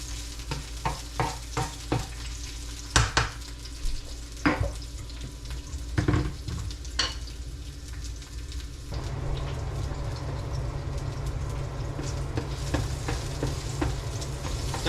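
Garlic sizzles in hot oil in a pan for Filipino-style pompano fish escabeche, with repeated stirring scrapes and clatters at first, then an even, continuous frying hiss, close and moderately loud.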